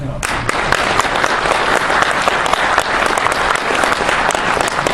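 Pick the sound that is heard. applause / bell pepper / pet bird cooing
applause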